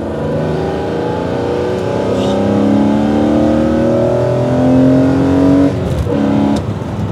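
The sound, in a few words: BMW engine revving with sport intake, throttle opened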